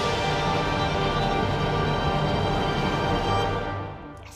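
Berlioz's huge Romantic-era orchestra from Symphonie fantastique plays a dense, full sustained passage, loud and rich, before fading away at the end.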